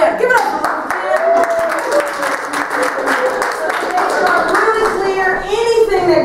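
An audience claps and cheers for a performer named Luke at a youth and young adult worship event, with sustained applause and a voice calling out over it throughout.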